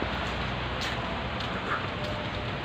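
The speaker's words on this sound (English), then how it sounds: "It's raining and I'm in Qatar." Rain falls steadily in Qatar, a dense, even hiss of drops on surfaces that holds constant throughout with no voices.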